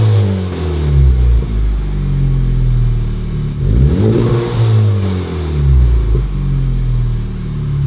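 A Honda Civic Type R fitted with a Perrin catback exhaust revs while stationary, rising and falling in loud, throaty blips over a deep rumbling idle, close and alone.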